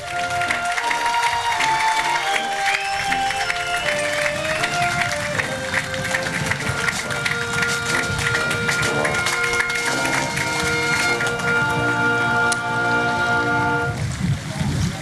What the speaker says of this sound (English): We're not only applauding for these people, but for all the people that have served in these branches